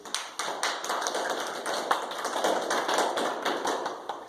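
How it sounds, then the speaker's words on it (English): A modest group in a church classroom gives a round of applause, sparse, distinct hand claps in an uneven rhythm that hold at a moderate level throughout without much crowd noise. "Let's give them a big round of applause"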